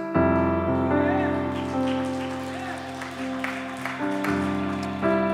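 A church congregation claps together over sustained organ or keyboard chords, a steady dense patter of hands filling the room alongside the music.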